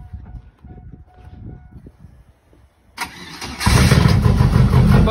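A turbo Chevrolet Cavalier is cranked: faint shuffling and rustling come first, then the starter whirs and the engine catches into a loud, steady close idle.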